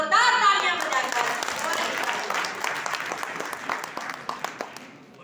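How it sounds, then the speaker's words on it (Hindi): Loud audience applause at a Hindi poetry recital (kavi sammelan and mushaira), a dense burst of many hands clapping that starts strongly and gradually thins and fades over several seconds. "एक बार जोरदार तालियां बजाकर"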